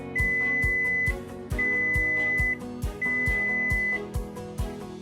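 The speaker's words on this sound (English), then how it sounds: "When your coffee is ready, you will hear 3 beeps" A coffee brewer signals that its brewing cycle is finished with three clear, evenly spaced electronic beeps, each a sustained steady tone about a second long. They sound alongside a rhythmic pulsing background, with no talking.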